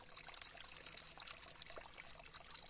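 A small river flows along a path with a steady, soft rushing and trickling of water, constant and even throughout without any voices.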